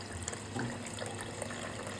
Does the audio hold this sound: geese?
no